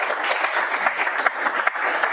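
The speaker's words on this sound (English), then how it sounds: "Let's have a quick round of applause first for Daniel." An audience at a machine-learning engineering meetup in London claps in a quick round of applause for a speaker named Daniel, a dense, steady patter of many hands at moderate volume throughout.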